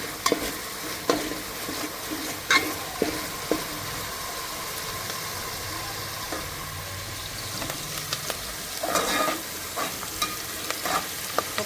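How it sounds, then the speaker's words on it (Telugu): Ingredients for green pulao and chicken curry frying in a pan until the raw smell goes, a steady close sizzle under regular scrapes and knocks of a stirring spoon, continuous and moderately loud with no voices. "ఇది పచ్చివాసన పోయేంత వరకు బాగా ఫ్రై చేసుకోవాలి."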